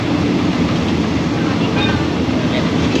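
Passenger train rolling along the rails between Phitsanulok and Phichit, a steady loud rumble and rushing noise heard from inside the carriage, unbroken for the whole stretch.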